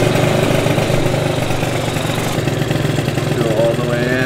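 A small engine running close by after its carburetor was fitted with a 108 main jet, holding a steady, buzzing idle with a slight rise in pitch near the end.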